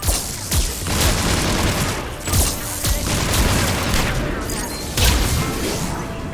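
Turret gunfire in the Mass Effect 3 Cerberus base, loud sustained bursts with sharp heavy impacts and booms recurring through the shooting.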